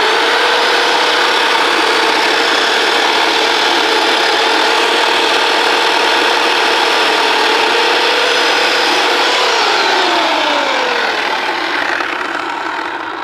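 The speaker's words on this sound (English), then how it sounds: "You can see the direction of the chainsaw and then just relax it while on the log." A chainsaw cutting a large branch drones loudly and steadily, its pitch holding level before dipping as it bogs down near the end.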